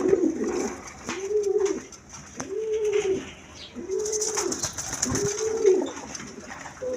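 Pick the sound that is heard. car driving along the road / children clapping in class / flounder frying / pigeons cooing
pigeons cooing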